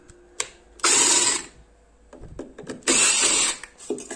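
A threaded fitting is unscrewed by hand in a fire-protection experiment, giving two bursts of gritty, ratcheting metal scraping with quieter clicks and handling noise between them, close and loud, with no voices.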